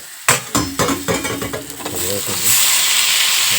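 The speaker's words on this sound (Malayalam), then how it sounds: "സവാള നല്ല വഴണ്ട് വന്നിട്ടുണ്ട് കേട്ടോ" Chopped onions sautéing in a hot pan beside a dosa, with a few sharp stirring scrapes early on, then a steady loud sizzle building and holding to the end.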